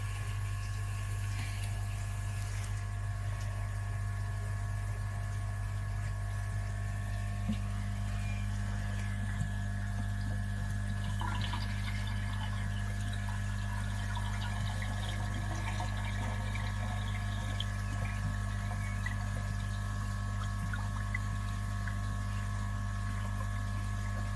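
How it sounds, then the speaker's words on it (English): Steady water pumping and flowing through a koi pond's moving bed filter, with a constant low mechanical hum underneath and faint trickling throughout. "Let's just start pushing the water"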